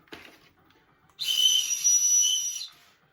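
A candy whistle sweet is blown once, a bright shrill tone of about a second and a half, close and loud, after a brief faint rustle.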